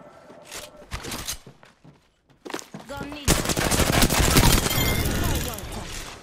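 Automatic gunfire in a first-person shooter video game, with scattered shots and then a loud, sustained burst of rapid fire close by, alongside voices talking.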